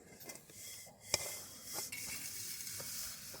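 Flattened rice flakes (aval) roast dry in a pan and get stirred, giving soft scraping and rustling with a faint sizzle and one sharp clink of the utensil, quiet and without talk.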